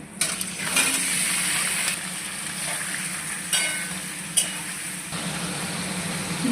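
Chicken meat is dropped into a pan of browned onions fried with dried red chilli and bay leaf, setting off a steady sizzle broken by several sharp clinks and scrapes of utensil on pan, with no voices.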